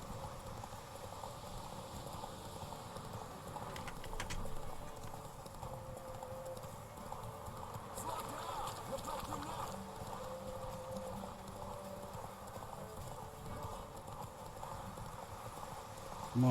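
The horse Roach gallops in The Witcher 3, a fast, steady clip-clop of hooves running continuously over ground with a faint ambient wash beneath.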